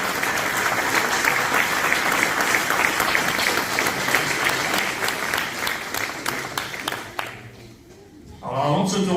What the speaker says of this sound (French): applaudissez aussi les enseignants, sans qui rien ne sera possible